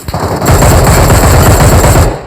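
Gunfire in a mobile shooter game, heard as a loud continuous automatic burst of rapid shots lasting about two seconds, close and alone with no talk.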